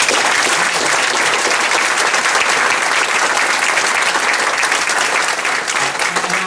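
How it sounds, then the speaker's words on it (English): An indoor audience at a speaking event claps steadily in dense, loud applause that continues without a break. "He deserves a round of applause."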